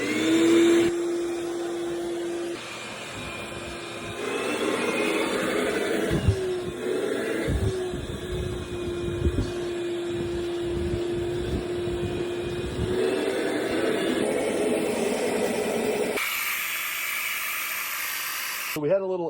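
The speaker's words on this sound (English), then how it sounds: "let's get that vacuum fired up." A vacuum runs steadily, pulling fine lint out of a large commercial laundry dryer, with a constant whining roar, bumps and rattles partway through, then it cuts off near the end.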